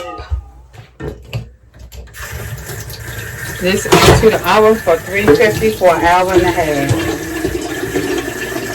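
Water pours and splashes into a pan around a sweet potato cheesecake to make a water bath, a steady close gurgling fill with a person talking over it.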